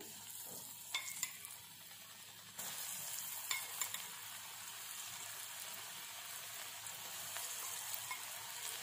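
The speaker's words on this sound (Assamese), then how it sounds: "ইয়াত মই এতিয়া অলপ অলপকৈ সয়াবিন ফ্ৰাই কৰি লম" Soybean chunks fry in hot mustard oil in a kadai, a soft steady sizzle that swells into a fuller hiss a few seconds in, with light clinks of stirring.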